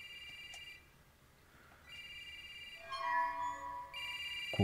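A public payphone rings in the Shin Hayarigami 2 video game: a faint electronic ring sounds in short repeated bursts, separated by brief pauses, with nothing else over it.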